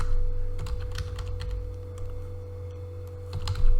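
Steady clicking of keys on a computer keyboard while entering configuration properties, close and moderately quiet, with a low constant hum in the background.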